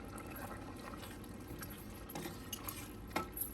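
A utensil scrapes and stirs through sambar in a pot, with soft wet swishes and a few clinks over a steady low background hum.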